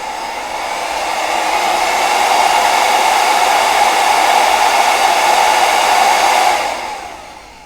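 A small 12-volt fan motor from a dismantled popcorn maker blowing air, a steady close whooshing whir that holds for several seconds before quickly spinning down.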